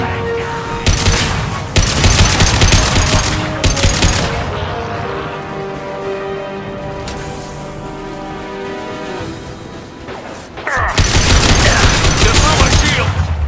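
Shotgun blasts and gunfire in the Mass Effect 2 video game, loud bursts with a sustained battle roar and ringing tones between volleys, heavy shots clustering at the start and again near the end.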